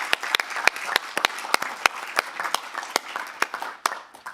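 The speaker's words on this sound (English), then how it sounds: "If we can just round of applause for Freeman Fallonga." A council meeting audience gives a round of applause for Freeman Fallonga, scattered individual claps from a modest group, irregular and fairly close, tapering off toward the end.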